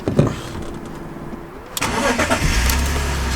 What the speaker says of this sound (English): so I started the car